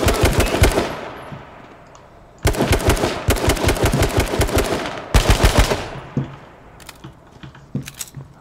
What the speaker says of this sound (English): Can't fucking shoot him.